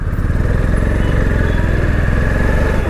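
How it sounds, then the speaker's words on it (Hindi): A 2024 Honda CB350 motorcycle engine runs steadily with a close, even throb and mechanical clatter, no other sounds. "गाड़ी का आप इंजन नॉइज़ सुन सकते हैं"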